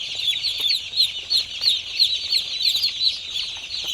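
Small birds chirp and tweet in quick, repeated bright calls, close by and fairly loud, with a constant twittering chorus behind them.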